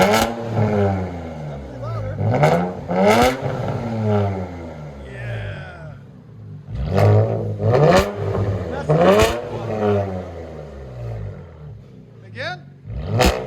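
Straight-piped Infiniti Q50 S with a 1.75-inch exhaust, revved hard in several loud, raspy bursts that rise and fall close by, with people talking between the pulls.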